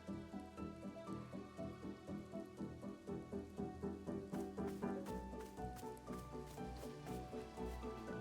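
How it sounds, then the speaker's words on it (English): Soft rain ambience in the video game Wanderstop patters continuously beneath a gentle, rhythmic melody of plucked and chiming notes, with no one speaking. "I like the rain. The rain ambiance is nice."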